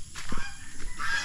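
A sick farm turkey calls in a short, honking burst, a few rough notes close by with faint chirping behind them.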